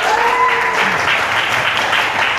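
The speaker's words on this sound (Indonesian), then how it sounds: "tepuk tangan buat awal" A class claps for a student during a university teaching session, with steady moderately loud applause and a brief voice at the start.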